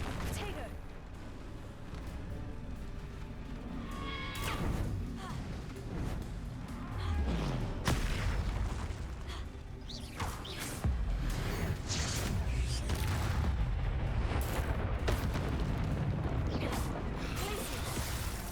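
Spell explosions from Confringo and Bombarda casting in Hogwarts Legacy, a string of booming blasts and crashes layered over dense game music and effects, with speech present throughout.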